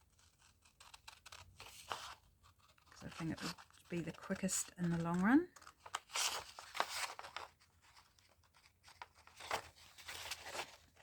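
Scissors snipping around a piece of paper during a craft tag-making session, several short crisp cuts in quick bursts between stretches of someone talking nearby.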